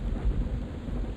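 Rain and thunder in a video game: a low, rumbling roll of thunder over a steady wash of rain, brief and fairly loud.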